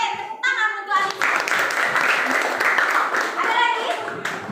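Children's applause for a classmate in a classroom, a dense burst of clapping that swells after the first second and holds steady, with voices speaking at the start and near the end.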